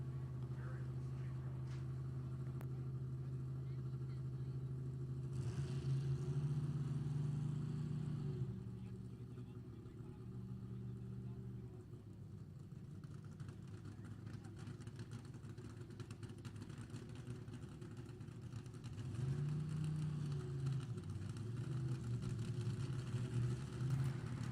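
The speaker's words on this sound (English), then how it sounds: "As you heard, Ken Bates dragster start on methanol, and then they switch it over to the Cackling Nitro" Ken Bates' nostalgia nitro dragster at an NHRA Heritage Series reunion, started on methanol then switched to nitro, rumbles at idle and swells into louder revs, with an announcer talking over it.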